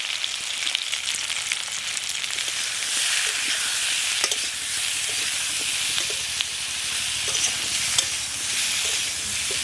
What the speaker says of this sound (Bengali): নুন হলুদ দিয়ে ভালো করে কলা আলুগুলো ভেজে নিয়েছি